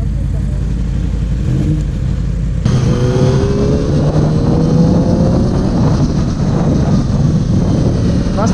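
A 2019 Yamaha R6 sport motorcycle being ridden, its engine droning steadily with rising tones as it accelerates, under strong wind rush throughout.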